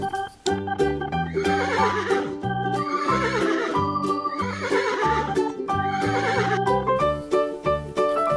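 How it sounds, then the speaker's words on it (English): An animated horse neighs over a bright, bouncy children's farm-song backing track, with whinnies riding on steady rhythmic music throughout. "Horse."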